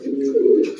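A Rajshahi Giribaz pigeon gives one low, close cooing call lasting under a second, with no voices.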